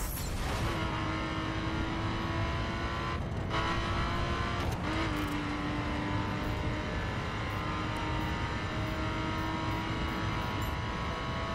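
Steady engine drone of a car driven in the racing video game The Crew, with a sustained tone that rises and shifts as gears change, broken by brief skids or bumps, continuous and fairly loud without talk.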